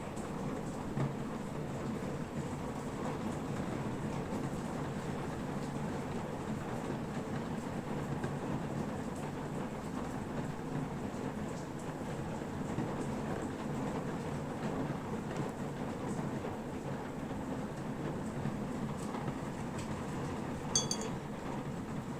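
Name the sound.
rain falling heavily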